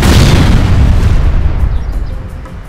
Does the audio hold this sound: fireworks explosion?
yes